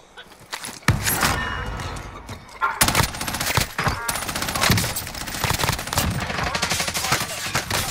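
Bursts of automatic gunfire and single shots crackle loudly and almost without pause in an online shooter match, with footsteps and a faint voice mixed underneath.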